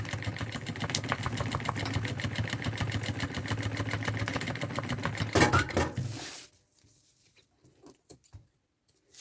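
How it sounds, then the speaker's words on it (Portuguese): A sewing machine stitching the hand strap of a thermal backpack, a steady fast motor-driven patter for about six seconds, then stopping abruptly into quiet with a few faint handling taps. "Então, eu vou costurar nesse meio certinho"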